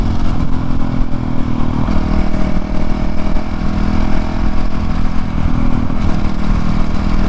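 Honda CRF450L supermoto motorcycle engine running steadily while being ridden, a loud continuous drone with rattly mechanical clatter and slight shifts in revs throughout, close and without talk.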